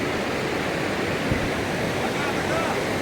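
A river current rushes steadily through a hill valley, a dense, continuous broadband roar that stays loud and even throughout, with no clear voices above it.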